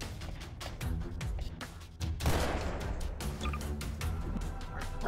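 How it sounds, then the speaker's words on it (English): Gunfire in the Garry's Mod video game, a dense burst of rapid shots with a loud crack partway through, continuing steadily at close range with faint talk underneath. "Can you stop shooting?"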